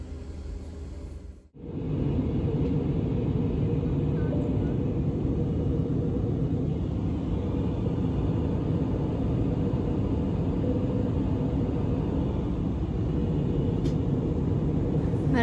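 Steady, loud rumbling drone of airliner cabin noise and rushing air during an ANA flight, constant low roar after a brief quieter moment at the start, with no talk.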